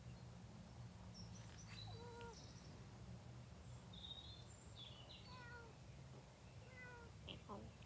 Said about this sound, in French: Oh, le petit chat.